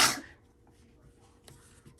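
A single sharp sneeze bursts out loud and close at the start, then fades into a quiet room with faint low rumble and a small knock near the end.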